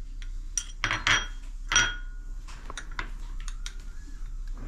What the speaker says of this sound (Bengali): দেখুন আমি একটু গোলমরিচ মেশাচ্ছি